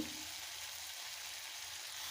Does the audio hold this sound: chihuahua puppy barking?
no